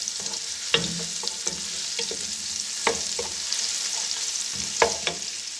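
Ginger garlic paste sizzles in hot oil while a spoon scrapes and knocks through it at irregular intervals, the frying hiss steady underneath and no voices.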